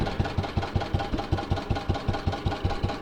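A Staub walk-behind tractor engine idles steadily in the cold while plowing in frost, giving a close, even train of low thumping pulses at a quick, regular rhythm.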